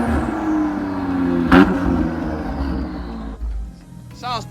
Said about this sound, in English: Sounds pretty good for a V6.